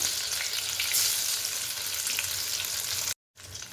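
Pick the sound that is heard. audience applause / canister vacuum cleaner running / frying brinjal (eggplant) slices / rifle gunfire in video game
frying brinjal (eggplant) slices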